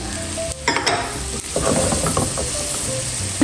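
Corn tipped into a hot pan of beef stir fry sizzles and crackles steadily, with scraping stirring noises throughout; close and fairly loud, no talking.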